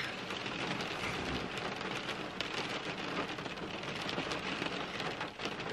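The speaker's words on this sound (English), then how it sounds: "Can you hear the rain?" Steady rain patters on a surface without a break, a dense and fairly loud wash of drops. There is no talking.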